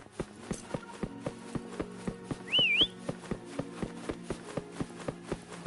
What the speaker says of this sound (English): Why don't you call Foam over? Try whistling.